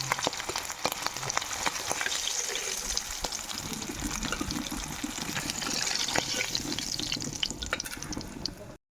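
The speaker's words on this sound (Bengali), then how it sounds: "এবারে বাকি মাছগুলো হালকাভাবে ভেজে নেব" Hilsa fish fries lightly in oil, sending up a close sizzle full of sharp pops and spatters that keeps going steadily until it cuts off abruptly at the end.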